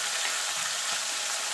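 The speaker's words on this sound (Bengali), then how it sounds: "দুইবারে মাছগুলো ভেজে নেব" Bata fish frying in smoking-hot oil, a loud, continuous close-up sizzle with a steady crackling texture and no talking.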